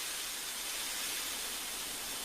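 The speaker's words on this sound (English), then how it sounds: "When Henry thinks, he puffs out a cloud of steam." Cartoon steam locomotive Henry releasing a cloud of steam, a steady, broad hiss held evenly throughout, fairly quiet and alone without voices.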